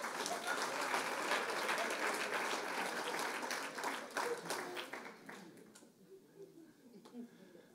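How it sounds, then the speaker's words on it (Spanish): A church congregation gives loud, sustained applause as an offering to Jesus during a Spanish-language sermon, dense clapping that thins and fades over the final seconds. "De nuevo una ofrenda de palmas fuerte a Jesús"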